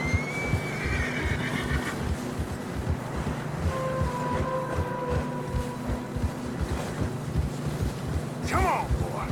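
A horse in Red Dead Redemption 2 whinnies near the start and again near the end, over steady wind and a rhythmic low thudding of movement through deep fresh snow.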